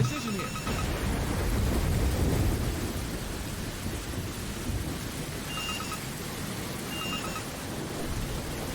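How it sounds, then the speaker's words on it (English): Thunder rumbles through a game storm in Jurassic Park: Operation Genesis, a deep rolling roar swelling then fading over steady rain, with faint electronic chimes from the game interface. "Lightning has damaged a section of low-risk fence."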